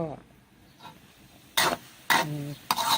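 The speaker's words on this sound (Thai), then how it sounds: "ใส่น้ำมันประมาณปานกลางคนไปเรื่อยๆนะคะ คนไปเรื่อย ๆ" Garlic being stirred in hot oil in a pan over high heat, heard as three sharp, close scraping strokes over a quiet sizzle. A voice may briefly be present during the strokes.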